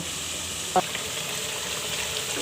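Vegetables fry in a little water in a pan, a steady close hiss of sizzling with a faint short tonal sound early on.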